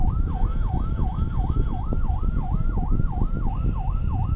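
Ambulance siren wailing in a steady rising-and-falling cycle, loud and close amid a congested traffic jam on a Bangladeshi street, with dense low engine rumble and road noise beneath and no talk.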